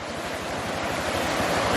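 A creek swollen by a few hours of heavy storm rain rushes and roars in a steady, dense wash of water noise, close and loud, with some wind buffeting the microphone and no voices.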